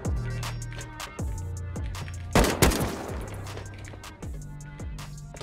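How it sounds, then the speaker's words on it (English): Rapid gunfire crackles in the survival game Rust, a steady series of sharp shots with a louder burst near the middle, heard at moderate distance with no talk. "Two guys are shooting me, right?"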